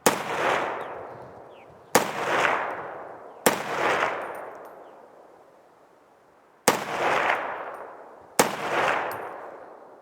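Ruger SFAR rifle firing PMC Bronze ammunition outdoors: five loud, sharp shots at uneven intervals over about ten seconds, each cracking report trailing off into a long decaying echo.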